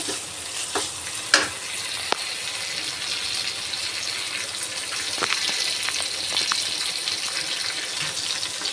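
Tomatoes and onions sauté in oil in a pan for brinjal curry, giving a steady close sizzle with a few scattered stirring clicks throughout.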